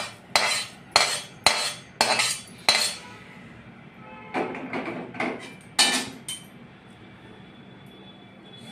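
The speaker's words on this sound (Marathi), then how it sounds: "आता आपण बडीशेप काढून शाजिरा भाजत आहोत।" Shahi jeera dry roasting in a pan, heard as sharp rhythmic clacks of a spoon or spatula against the pan in quick bursts, then quieter scraping with pauses.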